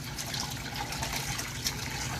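Water rushes steadily over the top of an aquaponics barrel, a close, constant splashing and gurgling flow with bubbling agitation and no pauses.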